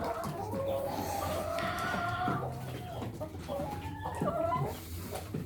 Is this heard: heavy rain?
no